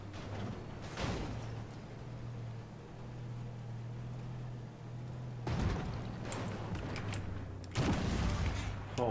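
Tank cannon fire in the Armored Warfare game, with a T-62 firing HEAT rounds: a few heavy booming shots spaced several seconds apart over a steady engine drone.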